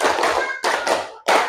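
Classroom students clap their hands together in rhythm, three sharp, loud bursts of many hands separated by brief pauses, close and with no talk over them.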